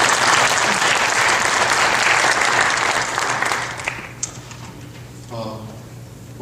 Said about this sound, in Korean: 우리 자녀들에게 한 번 더 우리 축복의 박수 한번 부를까요?